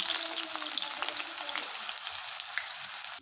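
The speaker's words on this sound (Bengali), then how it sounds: "এবার তেলটা গরম হয়ে গেছে, আলুগুলোকে ভেজে নেব।" Potatoes fry in hot mustard oil in a wok, giving a loud, dense crackling sizzle that carries on steadily and fades slightly at the end.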